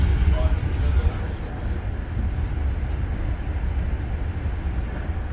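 Exo commuter train riding from Montreal Central Station to Saint-Lambert on the Candiac Line, a steady low rumble of wheels and car noise heard from on board, with people talking over it.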